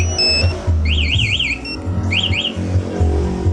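A Honda CBR 150 motorcycle's aftermarket smart key alarm goes off up close, loud warbling siren sweeps in two bursts with short beeps, over the low steady hum of the bike.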